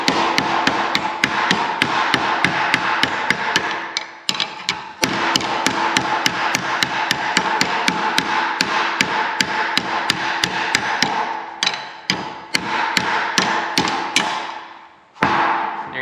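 A hammer pounds on a 1/4 inch by 1 inch steel flat bar in rapid, rhythmic metallic strikes, loud and close, with a few brief pauses between bursts of blows.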